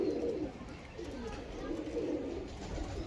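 Black Thief breed pigeons cooing in a loft, a steady low murmuring coo that rises and falls continuously, close by and moderately loud, with someone talking over it.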